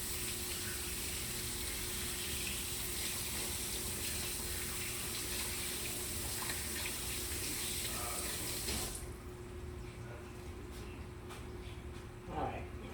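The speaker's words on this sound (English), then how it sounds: "Let me wash my hands right quick." A kitchen sink tap runs steadily while hands are washed beneath it, a close, even rush of water that cuts off near the end, leaving soft handling sounds and a brief splash.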